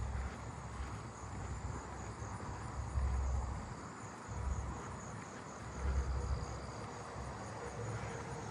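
A Columbian trig cricket chirps in a neighbourhood outdoors, a faint continuous high trill with soft low rumbles swelling and fading beneath it.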